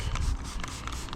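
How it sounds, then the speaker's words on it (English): A few quick hissing spritzes from a spray bottle of protectant onto a Royalex canoe, short bursts close by over a low background rumble. "I'm just going to start by spraying this on here"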